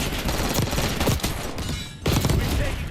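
A compact submachine gun in Black Ops 6 fires in fast, loud, near-continuous bursts, with a brief break near the two-second mark before the rapid fire resumes.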